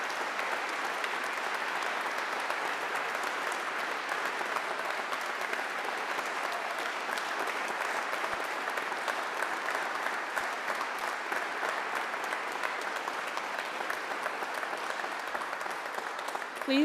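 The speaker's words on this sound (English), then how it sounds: "please give a big round of applause for the Steel Battalion Commissioning Class of 2023" Long, even round of crowd applause for the Steel Battalion commissioning class of 2023 at their ceremony, dense continuous clapping from a large audience that holds steady from start to finish with no voices.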